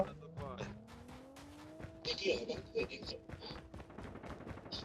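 Video game gunfire crackles in short scattered bursts and single shots during an airdrop match, mid-distance and moderately loud, with players' voices talking over and between the shots.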